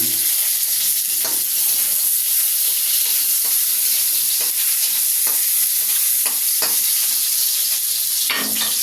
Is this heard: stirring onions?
yes